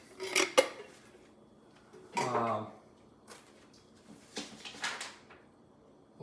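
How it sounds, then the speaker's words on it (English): A 28-ounce can of diced tomatoes is emptied into an Instant Pot with a couple of bright metallic clinks of can against pot, a wet slump, and a few softer knocks afterward, close and fairly quiet. "Just dumping that right in."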